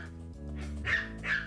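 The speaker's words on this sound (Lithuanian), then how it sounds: "Garsiai loja, o varge." A small dog barks loudly twice in quick succession, sharp, close and alone, with no voices alongside.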